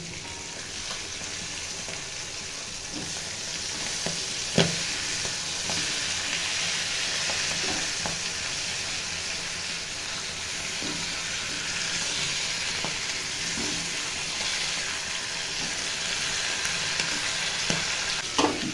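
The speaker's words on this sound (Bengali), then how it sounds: "আর এদিকে মাছের মাথাটা ভেজে নিচ্ছি" A fish head fries in a pan with a steady, fairly close hiss of oil over nearly twenty seconds, punctuated by a few scattered spatters and pops, with no one speaking.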